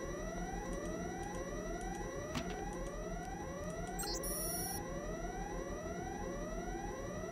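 A security alarm in Deus Ex gives a repeating rising electronic sweep that cycles steadily over a background hum, with a brief thud and a short high beep partway through.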